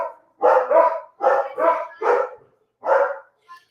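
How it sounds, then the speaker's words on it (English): Several pet dogs barking indoors at a Florida home, a rapid series of loud, close barks in uneven bursts, one last short yip trailing off. "My dogs are going crazy."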